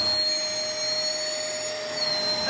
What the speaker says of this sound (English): whilst I'm moving the hoover.